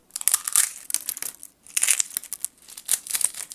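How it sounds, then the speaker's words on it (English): Flower frozen brittle in liquid nitrogen crumbling in the hand with crisp, crackly crunches in several close bursts, loud and bright, with short pauses between handfuls. "It turns brittle and crumbles in your hand with a satisfying, crispy crunch"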